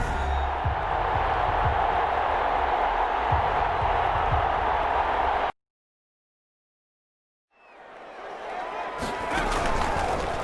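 A stadium crowd roars in Madden NFL 21 before a Giants versus Oklahoma City Lancers game, a loud continuous wash under a commentator's voice that cuts to silence, then fades back in.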